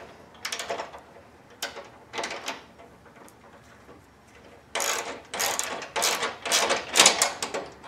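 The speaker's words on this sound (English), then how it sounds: "We're going to tighten that down." A screw being tightened into a Rockmen tailgate storage box: a few scattered ratcheting clicks first, then a faster run of sharp mechanical ratchet bursts, close and fairly quiet with no talking.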